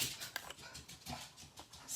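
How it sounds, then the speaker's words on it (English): Several dogs whimper and pant close by in short irregular bursts, with soft shuffling between them, heard indoors in the background while someone works on a craft project. "Excuse my dogs."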